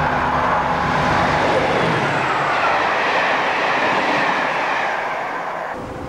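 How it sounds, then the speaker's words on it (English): A British Rail Class 37 diesel locomotive hauls a train past with a loud, continuous rumble and rolling wheel noise that slowly fades near the end. "We can see a Class 37 hauling a North West train service from Crewe to Holyhead."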